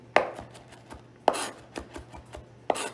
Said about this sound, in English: See, you take your hand on top of the knife, and we're just chopping it up.